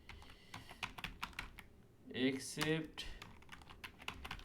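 Code being typed on a computer keyboard produces a quick, irregular run of close key clicks, with a brief burst of speech in the middle.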